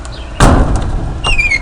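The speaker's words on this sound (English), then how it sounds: "Close the door." A door on a country homestead building swings shut with a single sharp thud, followed by a brief high squeak, close and loud with no talk.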